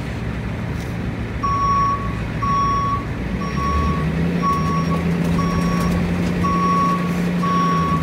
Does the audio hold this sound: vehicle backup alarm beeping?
yes